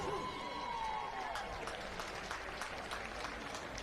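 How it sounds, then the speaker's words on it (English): A crowd at a juvenile draft event of the Ringers Western Gold Buckle Campdraft claps, a faint, dense, steady patter of applause heard from a distance, with a voice faintly in the mix. "You've been a great crowd. Yeah, give yourselves a clap."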